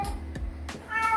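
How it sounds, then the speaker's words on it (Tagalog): A pet cat meows indoors, close and clear, giving two or three short cries in quick succession. "Yung pusa ko ay umiiyak."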